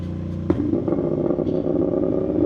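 A CFMoto 450MT motorcycle with an aftermarket exhaust idles with a deep, throaty rumble, a sharp blip of the throttle near the start, then steady burbling exhaust close by.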